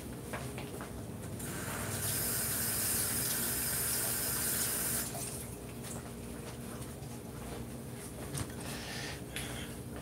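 Tap water runs steadily into a kitchen sink while fish are rinsed under it, a loud rushing stream that swells for a few seconds mid-clip, then settles back to splashing and handling sounds.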